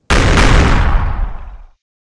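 A single loud explosion blast from the PS1 action game Crisis City, a sharp close-up bang that erupts abruptly and rumbles out over about a second and a half before cutting to silence.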